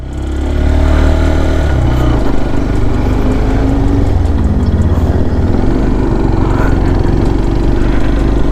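A CFMOTO Papio XO-1 motorcycle engine drones steadily at close range, a continuous mechanical hum with slight shifts in pitch as the bike rides along, no voices.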